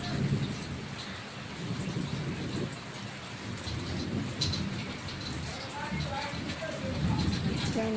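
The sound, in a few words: rain and thunderstorm in the village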